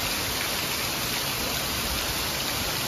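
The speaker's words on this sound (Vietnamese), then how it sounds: "It's raining, nobody in the pool." Rain falls steadily by a hotel pool, an even, dense hiss that holds without a break through the whole clip, with no voices.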